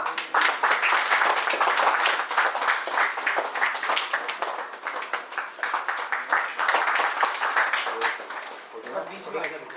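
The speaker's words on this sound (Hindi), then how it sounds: "तालियां।" Audience applause at a retirement ceremony, a dense, sustained round of clapping from a crowd lasting nearly ten seconds before easing off at the end.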